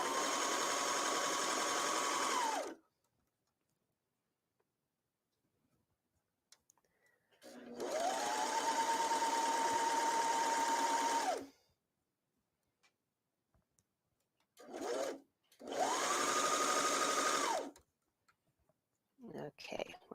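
Serger overlocking a hem on stretchy T-shirt fabric as it feeds through unstretched, in three separate bursts of rapid, even mechanical whirring that spin up and stop, with quiet gaps and faint handling noises between.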